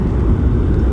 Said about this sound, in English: Afterburners kick in.